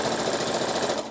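Close, steady whirr of a sewing machine running a quick rapid stitch along the seam of a knitted top for about a second.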